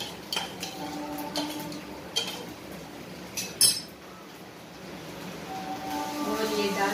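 Dry porridge stirred into jaggery water in a metal pot, a spoon scraping and clinking against the sides in sparse taps and knocks, fairly faint, with someone speaking now and then.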